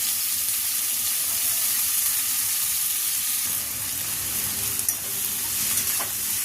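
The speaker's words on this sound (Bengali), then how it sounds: "এবার তেলের মধ্যে পেঁয়াজটা প্রথমে আমি দিয়ে দেব। পেঁয়াজটা দিয়ে হালকা ফ্রাই করে নিয়ে তারপরে আলুটা দেবো।" Onions sizzle steadily in hot oil in a pan for a Bengali prawn do-pyaza, a constant bright hiss with faint clinks of stirring and no voices.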